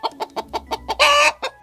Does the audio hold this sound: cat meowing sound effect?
no